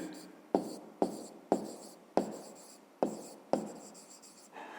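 A pen writes on paper in a series of short strokes, about seven scratchy bursts in a steady rhythm, each starting sharply and tailing off, close and fairly quiet.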